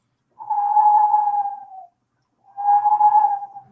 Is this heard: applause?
no